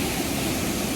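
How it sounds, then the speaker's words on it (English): A waterfall at South Lake Tahoe roars from close by, a dense, steady rush of falling water that fills the whole second without a break. "being next to this waterfall is hella cool"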